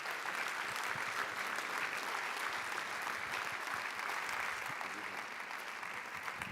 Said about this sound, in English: Can you please give a very warm round of applause to Robert Zadrazil?